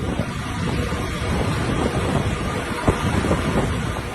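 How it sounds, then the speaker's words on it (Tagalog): Strong typhoon wind and rain roar steadily across the microphone in Batanes with a dense rushing wash of heavy rain and gusts, with no pauses. "Halos matumba na rin ang ilang mga puno sa lakas ng hangin at ulan."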